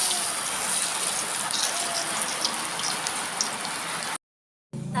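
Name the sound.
rain falling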